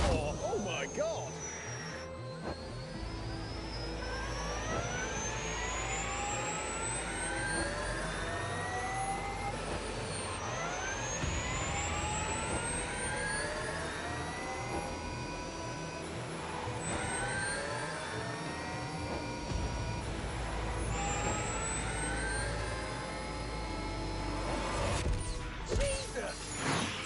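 A car engine revs hard while driving, climbing in pitch again and again as it shifts through gears, loud and close, with excited voices talking over it.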